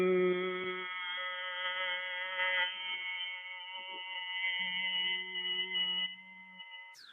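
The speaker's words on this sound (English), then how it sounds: "And you breathe out with a Bhramri sound like this." A steady, buzzing hum with a rich stack of harmonics from a Bhramari yoga breath exhale holds for several seconds, fairly even and close, with slight pitch shifts and a brief break partway.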